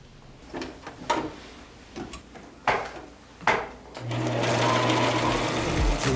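A sewing machine is hand-cranked through a few slow clicking strokes, then motors up into a steady, loud whirring stitch run that holds for about two seconds before winding down.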